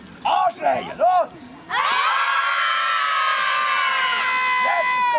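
Children at the Roman festival in Augusta Raurica give a few short calls, then erupt together in a sustained, loud shouted battle cry that carries on for several seconds.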